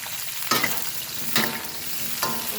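Long eggplant pieces sizzle and hiss in a hot pan as they are stir-fried, with three distinct scraping stirs at regular intervals over a constant frying crackle, close and fairly quiet, no talk.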